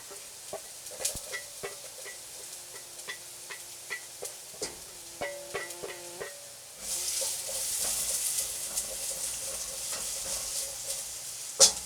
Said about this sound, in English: going to start sauteing our onions once our oil heats up a little bit